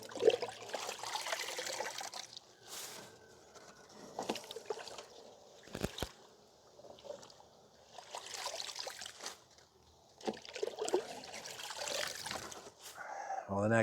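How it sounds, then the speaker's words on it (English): Wet collard greens being lifted out of a wash bucket of water, with repeated splashing, dripping and trickling bursts close by, separated by quieter pauses and a few sharp knocks. "I take greens out of the wash bucket"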